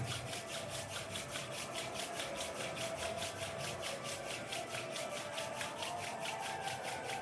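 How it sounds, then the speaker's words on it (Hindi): Both palms rubbed briskly together during a meditation session, a steady continuous dry rasping with fast regular pulses, close and even in level, with no talk. "दोनों हथेलियों को आपस में रगड़ेंगे।"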